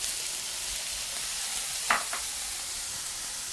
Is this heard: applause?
no